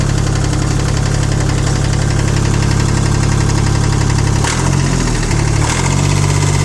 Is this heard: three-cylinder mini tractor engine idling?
yes